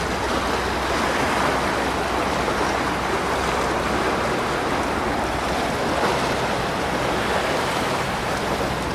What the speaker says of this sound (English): The waves are breaking underneath us. It's a fishing boat. Going out.